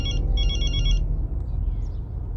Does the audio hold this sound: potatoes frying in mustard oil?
no